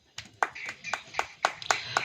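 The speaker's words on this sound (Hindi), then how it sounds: "ताली हो जाइए" A small church congregation at a sermon gives a handful of sharp, evenly spaced hand claps, about eight in two seconds, fairly faint, with a low murmur beneath.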